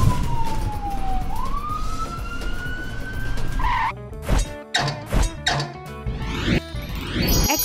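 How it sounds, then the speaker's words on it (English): A cartoon ambulance siren wails in a rising and falling sweep, loud and near, then gives way to a run of sharp knocks and thumps. "Carry ambulance."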